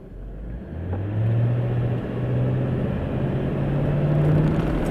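A Mercedes ML430 whose gearbox is stuck in second gear accelerates from idle, its engine droning up into a steady strained whine that wavers and climbs again, loud and close inside the car with no talk.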